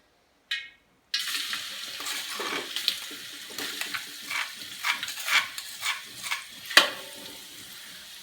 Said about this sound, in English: we're going to go ahead and saute our seasonings in the oil